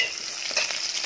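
Steady hissing sizzle of chopped small onions frying in hot oil, loud and close, with faint stirring scrapes.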